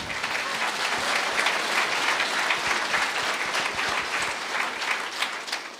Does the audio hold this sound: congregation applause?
yes